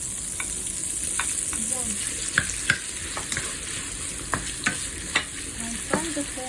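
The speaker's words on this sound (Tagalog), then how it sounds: "Gisa natin ng pork para malupok." Pork sizzles and fries in a pan, a steady quiet crackle broken by occasional scrapes and stirring clinks from a utensil, with a brief spoken word at the start.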